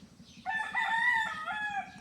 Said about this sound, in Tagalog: Uy, may manok, Bin.